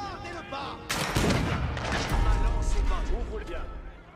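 Cannon fire in an Age of Empires IV battle: dense booming blasts and crackling gunfire over a busy game soundscape, loud and continuous, with someone commentating over it.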